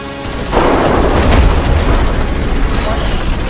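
A grenade explosion followed by sustained, loud, dense gunfire in the video game Starship Troopers Extermination during a night match. The continuous roar of shooting fills the whole stretch.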